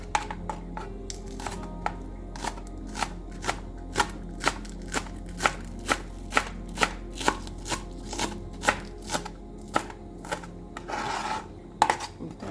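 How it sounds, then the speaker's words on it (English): Green onions are chopped with a knife on a cutting board, starting with the firmer white parts, making a steady run of crisp, evenly spaced chops up close with no talking. "Next we're gonna cut some green onions, first the harder parts."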